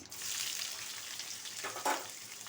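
Onions frying in a pan for a greens stir-fry: a soft, even sizzle with a brief louder crackle near the end, fairly faint and with no talking.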